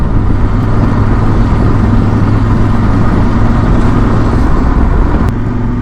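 A motorcycle rides through Peru's Sacred Valley, its engine a loud, constant droning hum with steady rushing wind noise and no pauses.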